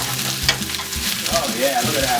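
Onions sizzling and frying in a pan for a steak dinner, a steady crackling hiss close by, with brief stirring or tossing knocks.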